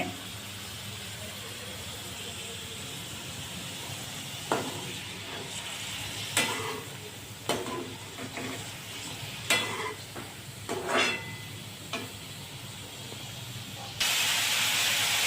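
Tomato and onion sautéing in a little oil for a matar paneer curry: a constant hiss and sizzle broken by scattered clinks of stirring, growing suddenly louder near the end, with no speech.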